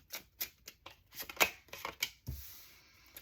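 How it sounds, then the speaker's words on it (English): Tarot cards are shuffled on a table in a series of close, crisp riffles and slaps, separated by short pauses, with a soft brushing sound trailing at the end. "you'll just see me shuffling like this here"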